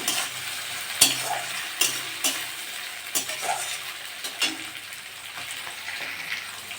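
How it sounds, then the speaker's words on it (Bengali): Steady sizzle of peeled shrimp frying in a pan, broken by scraping stirs and occasional clinks of a utensil, no voices. "চিংড়ি মাছটা একটু ভাজা ভাজা হয়ে গেছে"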